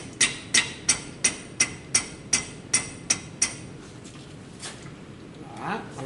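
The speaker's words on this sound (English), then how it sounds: "I'll just take my little hammer and give her a tap" About ten sharp, evenly spaced metallic taps from a small hammer on a part of a Pietta .44 revolver ring out in a steady rhythm, then stop, leaving faint handling sounds.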